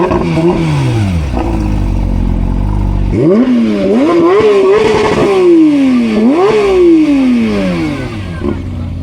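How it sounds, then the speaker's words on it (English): A Corvette's powerful V8 engine revs repeatedly, the pitch climbing and falling in loud, growling waves, with a rough idle between pushes. "Unmistakable sound. There is literally no other car that can sound like that. That is definitely a Corvette."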